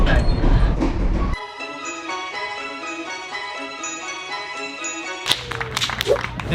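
Steady rumble and clatter of a Grand Canyon Railway passenger train rolling on rails, with a sustained tonal whine in the middle and rattling, clanking noise at the start and end.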